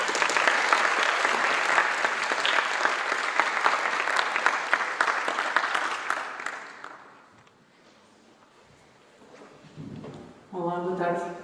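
An audience at a talk gives a speaker a full round of applause, dense clapping for about seven seconds that fades out, then a quiet pause before a voice begins speaking.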